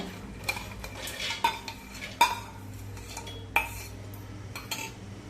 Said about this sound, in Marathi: तर मिक्सरच्या भांड्यामध्ये मूग घेऊया